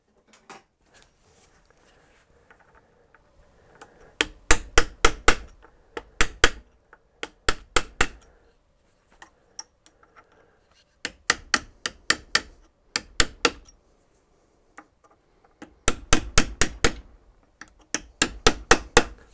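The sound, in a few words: tapping a tab washer over with a punch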